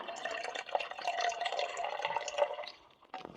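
Water poured for about three seconds into a shaker for a protein shake, a steady, close filling trickle with rising tone that stops near the end, no talking.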